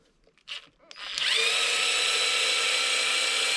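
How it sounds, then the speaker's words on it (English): Power drill backing screws out of an Arrma Kraton 4S V2.5 RC car chassis, a few faint handling clicks, then a sharp high whine that spins up and holds steady, close by. "we're gonna pull all these screws out of here"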